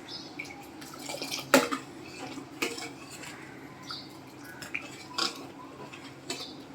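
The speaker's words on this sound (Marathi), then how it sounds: "पळीने छान हलवायचं आहे." A ladle stirring rice kheer in a steel pot on medium heat, with faint scattered metallic scrapes and clinks and soft liquid sloshing, quiet and close with no talk.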